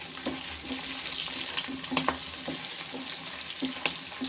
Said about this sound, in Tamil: வெள்ளைப்பூடு வெங்காயம் நல்லா வதங்கி வந்துடுச்சு